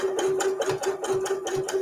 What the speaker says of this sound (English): I'm going to select a zigzag stitch on the machine and just stitch over those seam allowances